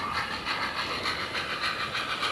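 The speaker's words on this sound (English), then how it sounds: "you also get a chance to drive the trains" A model railway train runs along its track, a continuous hissing rattle with a fast, regular clickety pulse, close and steady, with no speech.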